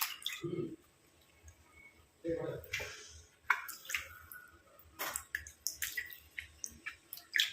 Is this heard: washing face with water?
yes